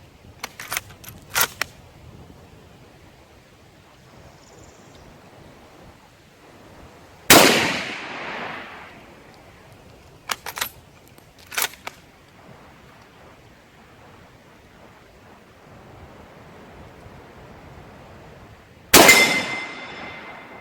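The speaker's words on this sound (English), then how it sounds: "I aimed much lower for the second round, and looks like I dinged it fairly center." Shots from an almost 100-year-old Kar98AZ rifle fired outdoors at a steel plate downrange: two sharp, loud reports spaced well apart, each followed by a ringing decay, with faint metallic clinks between them.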